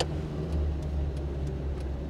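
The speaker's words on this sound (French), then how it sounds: "le moteur paraît hyper nerveux" Steady engine hum of a 1984 Renault 18 heard from inside the cabin, low and continuous with a slight rise in pitch as it accelerates, faint periodic clicks over the rumble.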